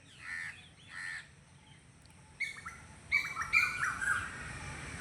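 Small birds chirp outdoors in a few bright, close bursts, first two separate calls, then a busier cluster of overlapping tweets against a quiet background.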